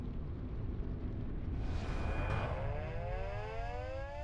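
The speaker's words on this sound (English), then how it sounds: "Across the island, sirens go off" Civil defense sirens sound a warning of a volcanic eruption on an island, a long, rising and falling wail that swells over a steady low rumble.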